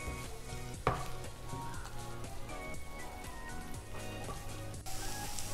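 Onion mixture for Kerala-style egg masala sautéing in oil in a pan, with a steady sizzle and occasional stirring scrapes, plus one sharp clatter near the start.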